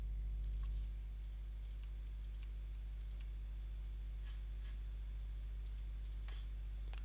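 Light, clicky keystrokes on a computer keyboard come in short scattered taps over a loud steady low hum, faint and close with no voices.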